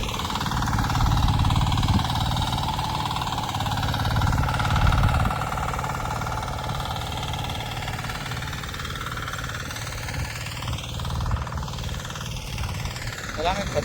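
A ginger bed-forming farm machine running in a field, with a steady rough mechanical engine drone that stays loud throughout.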